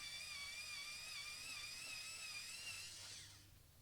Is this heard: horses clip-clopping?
no